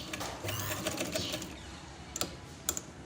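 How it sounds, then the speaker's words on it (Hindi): A sewing machine runs in a steady close burst while stitching the neckline of a suit, then stops, followed by a couple of brief sharp clicks as the fabric is handled. "ऐसे ही साथ रखकर हम इसको इस तरह सिलाई लगा लेंगे इस तरह"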